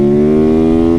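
An old supermoto motorcycle engine revs loud and close, holding a steady, buzzing high-rpm drone for about a second with no talking.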